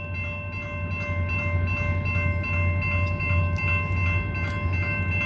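A short, slow CSX freight train rolls past, a steady heavy rumble with faint rail clicks and a sustained horn-like tone underneath, with no one speaking.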